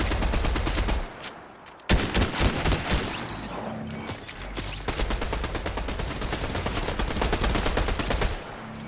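Fortnite gunfire fills the scene with dense, rapid bursts of automatic shots that continue almost without a break. One sharp pause leads into renewed volleys, loud and close, with no talking over them.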